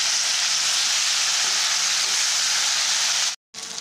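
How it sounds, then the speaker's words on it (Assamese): Mosondoi leaves frying in a pan after the onions brown, a loud, even hiss of sizzling oil that runs unbroken before cutting off briefly near the end. "মই এয়া মচন্দৈ পাতখিনি প্ৰথমতে ভাজি লৈছোঁ দেই"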